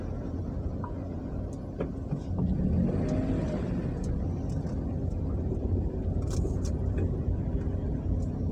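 Road traffic on a mountain road on the way to Lions Head, a steady low rumble of passing cars and engines with occasional revving, fairly close and continuous, with no talk.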